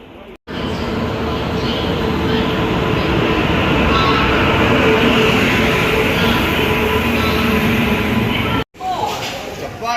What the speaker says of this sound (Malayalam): ഇതാ നമ്മളെ ട്രെയിൻ വരുന്നുണ്ട്